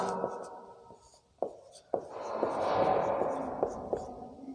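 Chalk or marker writing on a board during a Sanskrit grammar class, soft scratchy strokes and a few sharp taps, close and fairly quiet, mixed with low voice sounds in the room.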